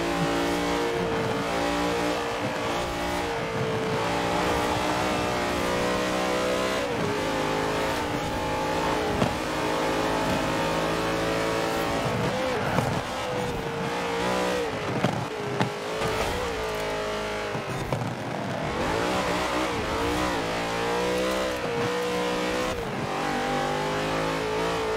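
A racing car engine roars continuously in the driving game Forza Horizon 4, revving up and down through gear changes with a loud, close, droning tone and no talk.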